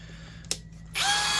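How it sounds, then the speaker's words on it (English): A Hychika 20V brushless 1/2-inch hammer drill clicks once and then spins up into a loud, steady whine at close range, with no voices. "So we'll do a little drilling operation and then see what it looks like."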